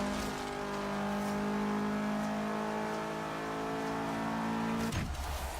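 A Subaru WRX STI at full throttle in Forza Horizon 3, a loud steady engine drone holding high revs for several seconds before the pitch suddenly drops as it lifts off.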